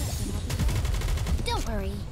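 Gunfire bombardment in the video game Nikke: Goddess of Victory: a short fusillade of rapid, evenly spaced shots, followed by a brief swooping tonal effect near the end.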